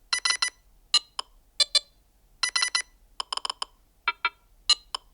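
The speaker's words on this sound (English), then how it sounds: "You can also create your own, even more annoying ringtones using the Composer app and choosing from different preset" A Nothing Phone (2a) plays a custom composed ringtone: loud, clear bursts of electronic beeps in irregular quick clusters separated by short silences, with no talk.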